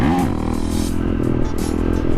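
A Yamaha YZ450 dirt bike engine drones close by on a cold-weather street ride, a steady buzzing, slightly rising revs with some clatter and no speech over it.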